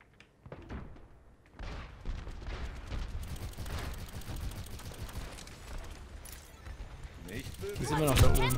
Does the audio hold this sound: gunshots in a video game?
yes